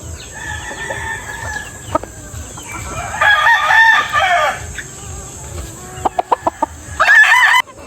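A Kanawayon Hatch gamefowl rooster of the Hennie line crows loudly and close, with a long harmonic call midway, a few short clucks, and a final crow burst near the end.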